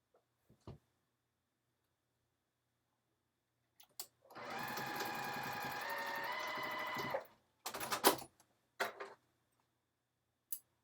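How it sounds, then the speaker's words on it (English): A sewing machine runs in one steady burst of about three seconds while stitching down a waistband, close and clear in a quiet room, followed by a few short bursts and isolated clicks. "So I better make sure that that whole waistband's stitched down and didn't run out"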